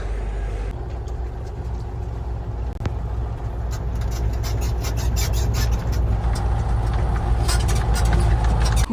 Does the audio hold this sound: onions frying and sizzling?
no